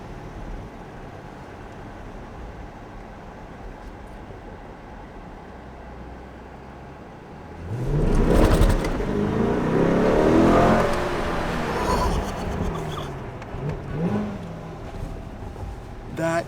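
Car driving, with a low steady hum that swells into a loud rushing roar of hard acceleration, then eases back to cruising noise.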